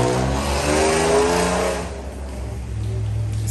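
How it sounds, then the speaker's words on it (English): A BMW with a rough-sounding engine pulls away and drives off, its engine note loud at first, rising briefly, then fading into the distance over a low background rumble. "That was their shitty sounding BMW leaving."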